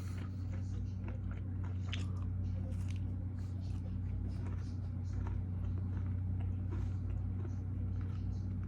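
Someone chews a Nature Valley salted caramel nut protein bar close up, with soft biting and crunchy squishing bites over a steady low engine hum like a car interior, brief murmurs of talk mixed in.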